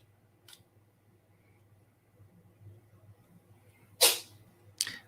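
A cat sneezing indoors, two quick faint bursts close together near the end, following a tiny earlier puff against a quiet room hum.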